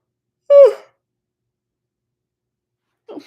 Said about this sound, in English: Very embarrassing amount of yawns.